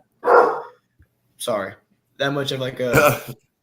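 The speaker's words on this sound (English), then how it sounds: "Xander, Aiden, I'm surprised it's the first bark we heard" A dog barks once, sharp and fairly close, near the start, followed by people talking in a room during a high school football discussion show.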